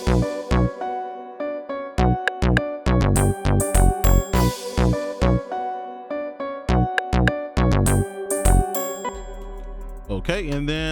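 A type beat verse with busy percussion, open hi-hats and bell-like melodic tones over punchy low drums in a steady, repeating groove. The beat plays loud and close, then thins out in the last seconds.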